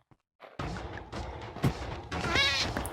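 A cat meows in the video game Minecraft, a short, fairly loud call that rises above busy in-game background noise, followed by a harsher, scraping burst of sound.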